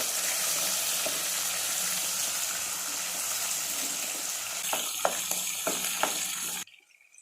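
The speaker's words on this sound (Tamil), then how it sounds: "இப்போ அதோட 2 பச்சை மிளகாய் நல்லா போட்டு வணக்கலாம்." Tomatoes and green chillies sautéing in a pan for a chicken curry, giving a steady, close sizzle with a few sharp clinks of stirring near the end before the sound cuts off. No talk.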